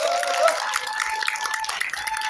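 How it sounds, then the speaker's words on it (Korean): Audience at a Korean business success seminar gives a round of encouraging applause, a steady wash of many hands with some crowd voices mixed in, moderately loud. "격려 박수 한번 다시 부탁드립니다"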